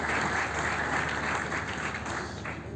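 Audience applause fills a hall at the launch of an African centre of excellence for batteries, a steady, dense wash of clapping from many hands, fairly close and sustained throughout.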